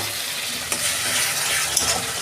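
Water poured into a pan of frying spices such as coriander and Kashmiri chili powder for a pomfret curry, producing a steady, loud hiss and sizzle throughout with a couple of small clinks.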